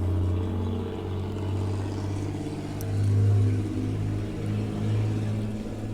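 A heavy tractor engine drones steadily at low revs, its pitch rising and falling slightly as it rolls along in first gear.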